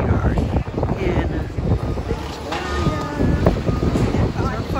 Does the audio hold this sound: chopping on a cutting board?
no